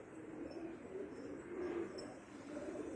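Assorted pigeons and doves cooing steadily, a soft low throaty murmur that swells and fades in continuous rounds, faint and unaccompanied by talk.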